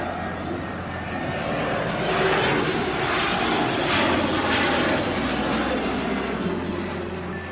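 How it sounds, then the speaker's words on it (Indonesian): Toy shark airplane producing a steady droning propeller-engine whir that swells and fades slightly, with a person talking over it. "ternyata ada pesawat hiu teman-teman"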